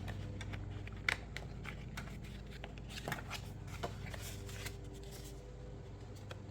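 Paper being folded and creased by hand while making a scenic background fun fold card, with soft crinkles and sharp crisp taps at a close desk, steady and quiet with no talking.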